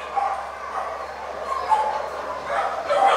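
Several dogs at an animal society fundraiser bark, yip and whimper in quick overlapping bursts, moderately close, with a lively indoor crowd and talking mixed underneath.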